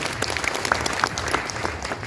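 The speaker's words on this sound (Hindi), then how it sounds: "ताली बजाइए खुद के लिए।" An audience claps at a motivational talk: a steady patter of many hands with scattered sharper claps, near and continuous.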